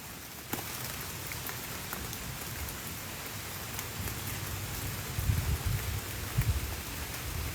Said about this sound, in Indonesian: Hujan, iya hujan guys.